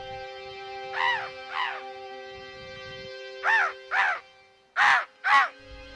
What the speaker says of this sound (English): a flock of birds answers him as they gracefully swoop by through the air